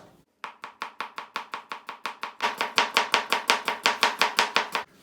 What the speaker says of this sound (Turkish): Önce işimize soğanlarımızı ince doğrayarak başlayacağız.